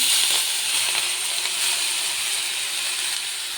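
Chopped leafy greens tossed into a pan of frying onions with turmeric and cumin powder, a loud broad crackling sizzle that starts strong and eases slightly as it settles, no talking.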